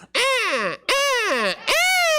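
Three loud, drawn-out nasal honking calls from a human voice imitating a goose, each about half a second to a second long with short gaps between, close and clear with no other sound.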